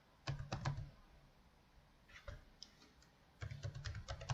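Typing on a computer keyboard, faint and close: a few quick keystroke clicks, a pause, scattered taps, then another rapid run of keys at the end with no talking.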